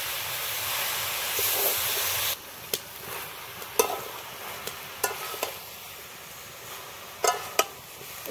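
Spinach and eggplant frying in a pan while being stirred: a steady sizzling hiss with intermittent scraping and clinking of a spatula against the pan, fairly close.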